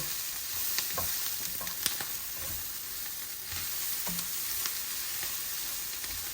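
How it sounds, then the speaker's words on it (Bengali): Soft, steady sizzle of food frying in a pan, with occasional light scraping and clinks of stirring. "এই যে আমার ভাজা ভাজা হচ্ছে।"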